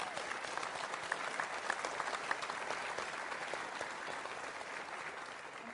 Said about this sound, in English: People were applauding.